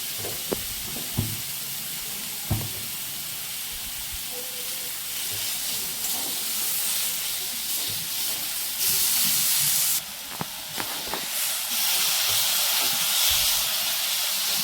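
Garlic chutney cooks on low heat in a pan, giving a steady hiss and sizzle that brightens and intensifies partway through, with occasional faint clicks and stirring knocks.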